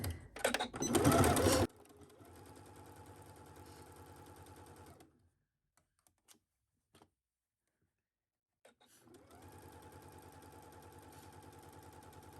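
A sewing machine stitches in rapid steady runs, first a loud burst, then a quieter rhythmic whirr that stops for a few seconds of near silence with light clicks before resuming.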